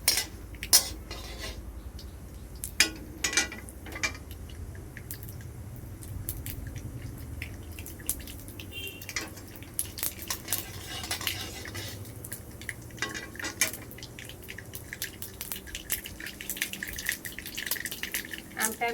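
Black mustard seeds in hot oil being stirred in a pan, busy clinks and scrapes of a utensil against metal with crackling sizzle and small pops, brief voice fragments in places.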